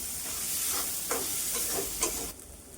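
Banana flower mixture with green chilli and fried peanuts sautéed in a pan for Bengali mocha chop, giving a steady close sizzle with a few soft stirring scrapes until it quietens near the end.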